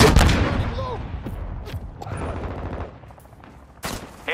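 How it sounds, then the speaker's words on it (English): Enemy gunfire in the video game Call of Duty: Modern Warfare II Invasion mode: a loud opening burst of close shots, then scattered cracks and rattling fire fading into the distance, with a sharp shot near the end. "Enemy fire!"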